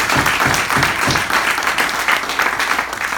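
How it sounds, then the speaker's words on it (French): Audience at a French-language political rally applauding a candidate, a dense steady wash of clapping that stays loud and even throughout. "je pense que ça mérite des applaudissements"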